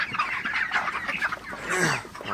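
Broiler chickens on a farm cluck and squawk close by in a busy overlapping flock, with short bursts and one louder rising call.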